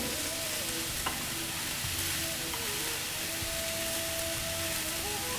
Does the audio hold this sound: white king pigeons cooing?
no